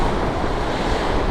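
Strong, gusty wind buffets the microphone at a sea lion colony on the Golfo Nuevo coast of the Valdes Peninsula, a loud continuous roar of wind and surf with no voices.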